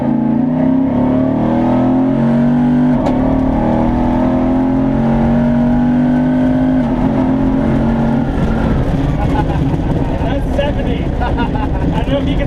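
A Legend Motor Co. Signature Series 4x4 with a 6.2 engine accelerates hard from inside the cabin, a loud, deep engine roar climbing in pitch through the gears with a shift partway through, and voices talking over it.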